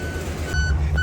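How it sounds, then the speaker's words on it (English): Two short electronic reversing beeps sound in a steady rhythm over the loud, low rumble of an idling police prisoner transport van. "it's got a beeping noise"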